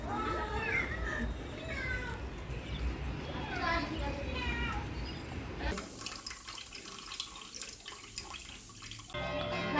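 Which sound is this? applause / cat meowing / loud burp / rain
cat meowing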